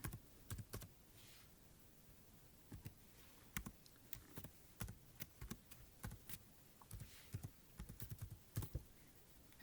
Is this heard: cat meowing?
no